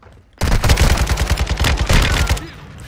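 Rapid automatic gunfire from a Call of Duty match bursts in abruptly and rattles for about two seconds, loud and close, then cuts off into quiet.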